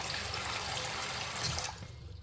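A double shower runs at full pressure in a house bathroom, a loud, even rush of spraying water that cuts off abruptly near the end, leaving a quieter trickle.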